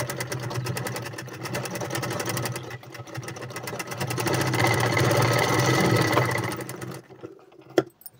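A sewing machine stitches piping cloth onto a boat neck blouse, a loud, steady motor hum with rapid needle chatter running for several seconds before stopping, followed by a single sharp clunk.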